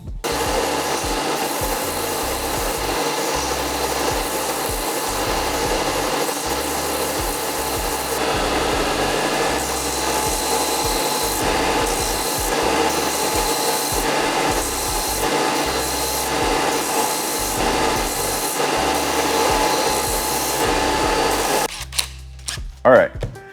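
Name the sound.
sanding glued-up wooden pieces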